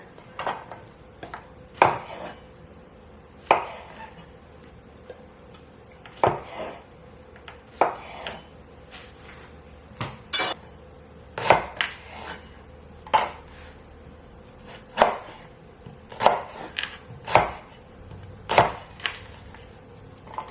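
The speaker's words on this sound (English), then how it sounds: "We don't need to cut these baby cremini mushrooms, but we are going to cut these ones into 4" A knife chops cremini mushrooms into quarters on a cutting board, giving sharp, irregular knocks spaced a second or two apart, close and clear against a quiet kitchen background.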